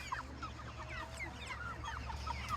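Meat chickens on fresh pasture grass cluck softly and continuously, with overlapping quiet calls from several birds over a low steady background hum.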